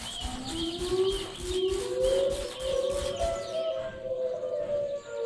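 A hawk cry in a scary itch.io video game, a drawn-out, rising screech repeated over a dense, buzzing game soundscape with eerie background music.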